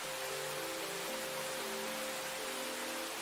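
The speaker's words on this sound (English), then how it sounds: "There's still rain." Rain, a faint steady hiss of falling drops with a soft tonal hum running underneath, continuous and without voices.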